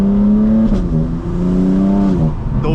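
A BMW M4 G82 fitted with catless downpipes and aftermarket intakes pulls hard, its loud, steady engine note climbing and then dropping briefly around gear changes, heard close from inside with no talking.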